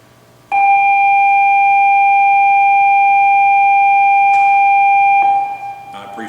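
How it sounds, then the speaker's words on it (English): A classroom bell rings loud and steady, a sustained electronic tone that holds for nearly five seconds before cutting off, with only low room hum beneath and no talking. "that bell is not for you"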